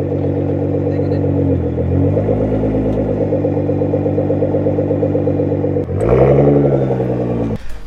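A Nissan GT-R engine breathing through aftermarket replacement quad exhausts, idling with a steady, deep burble, then blipping sharply near the end before settling back. It is close and loud, with no talk.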